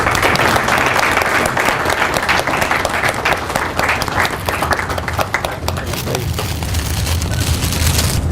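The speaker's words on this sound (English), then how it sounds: "Please welcome with a big applause." A large alumni day audience bursts into loud, sustained applause to welcome a speaker, many hands clapping densely and steadily at close range for the full stretch before tapering slightly near the end.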